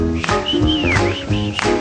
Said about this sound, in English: I started whistling to myself